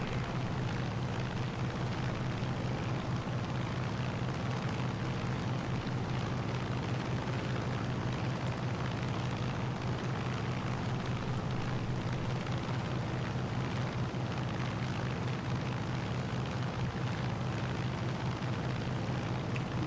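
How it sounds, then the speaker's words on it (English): Grumman TBM Avenger torpedo bomber engines from Flight 19 in Microsoft Flight Simulator, a loud, steady, unbroken propeller drone with a deep rumbling hum that holds throughout, with no other sounds. "Grumman TBM Avenger torpedo bombers from Flight 19."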